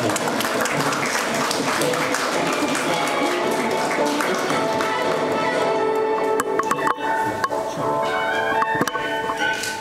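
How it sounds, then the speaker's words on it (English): Dense, steady applause from a crowd at a Korean War armistice anniversary ceremony fills the whole stretch, with a few sharper claps and ringing tones near the end. "Round of applause."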